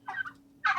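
A young red palm jake, a heritage turkey crossed from Bourbon Red and Royal Palm, gives two quick gobbles close by, a short burbling burst then a second one after a brief pause.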